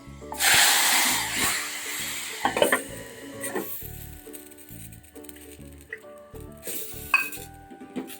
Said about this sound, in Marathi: आता हे आपण फोडणीला घालून देऊया